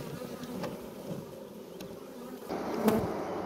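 Honeybees in an insulated hive spread along the comb gaps, a close continuous buzzing hum that swells slightly louder toward the end.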